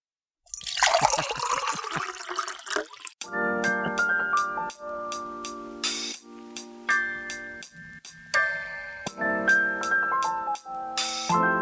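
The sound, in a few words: pouring coffee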